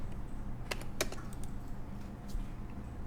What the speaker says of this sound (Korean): 다시 F12 키를 한번 누르면 자, 이렇게 꺼지게 됩니다.